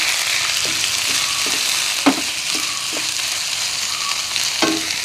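Finely chopped onions and slit green chillies fry in a pan for chole bhature, a steady close sizzle with soft scraping stir sounds and occasional clinks of the spoon.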